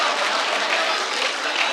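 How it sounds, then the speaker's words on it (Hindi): An audience at a ghazal recital claps in a steady, continuous burst of applause, fairly close and even in loudness throughout the short stretch, with no voices over it. "एक बार जोरदार तालियों से इस्तकबाल किया रहा है"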